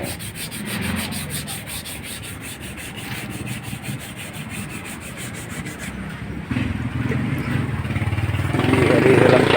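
Car body filler being sanded by hand on a Hyundai Elantra during a scratch retouch, a continuous rough rubbing scrape with steady strokes, growing louder toward the end, while a person talks.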